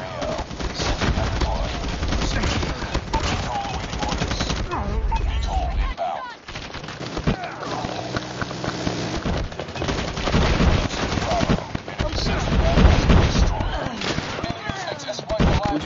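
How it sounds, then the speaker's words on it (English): Sentry gun and other automatic weapons fire in a Call of Duty multiplayer match, with dense continuous bursts of gunfire throughout and players talking over the shooting. "Hostile sentry gun here."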